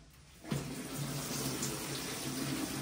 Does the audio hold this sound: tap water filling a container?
yes